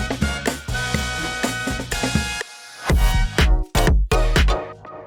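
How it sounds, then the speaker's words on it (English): A breakbeat drum sample from Splice sits in a groovy electronic track: punchy kicks and snares in a busy syncopated pattern under sustained tonal music, loud and full, with a brief dropout partway through. "it's really cool to find some kind of breakbeat and put it beneath it."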